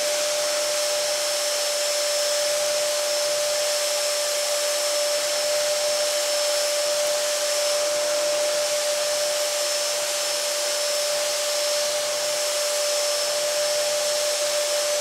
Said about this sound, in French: on aspire bien comme il faut parce qu'il ne faut pas qu'il en reste